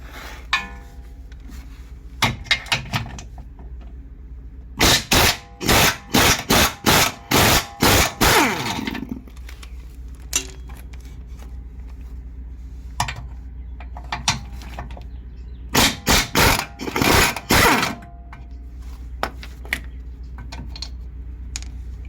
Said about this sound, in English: remove the bottom bolts, 17mm bolts for the transmission mount